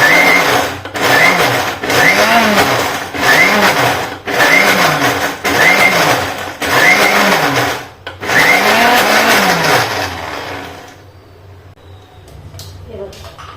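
Mixer grinder coarsely grinding soaked moong dal with water in a rapid series of short loud pulses, close up, then one longer run before stopping, with a voice talking faintly underneath.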